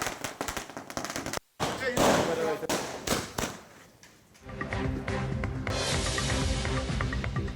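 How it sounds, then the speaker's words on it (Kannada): Sharp firecracker bursts crackle in rapid volleys amid a noisy outdoor crowd of celebrating farmers in Bidadi, Karnataka, followed by continuous loud chatter and commotion. "ಸಿಹಿ ಹಂಚಿ ಪಟಾಕಿ ಸಿಡಿಸಿ ಸಂಭ್ರಮಿಸ್ತಾ ಇದ್ದಾರೆ"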